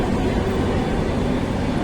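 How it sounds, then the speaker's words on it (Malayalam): A train passes through Ghatkopar railway station in Mumbai with a loud, steady, close rumble that holds for the whole moment, with no talking. "ഒച്ച കേട്ടിട്ട് നോക്കിയതാണ് ട്രെയിനിൻ്റെ"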